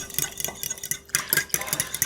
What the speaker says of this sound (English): So you'll need to stir this for about 20 seconds.